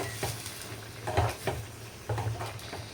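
A spoon stirs fish curry in a cooking pot with a series of soft knocks and scrapes against the metal. A faint simmering bubble sits underneath, and no one speaks.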